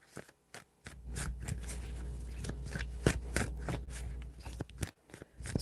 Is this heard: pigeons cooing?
no